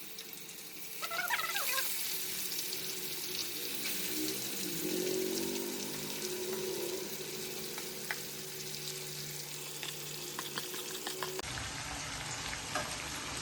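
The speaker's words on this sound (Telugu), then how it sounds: "తాలింపు వేగాక ఒకటి ఒకటి వేసేసుకోవాలి" Spiced river pomfret pieces are laid one by one into hot tempering oil in a pan, setting off a continuous loud sizzle with stirring scrapes and bubbling that holds for over ten seconds, with no voices.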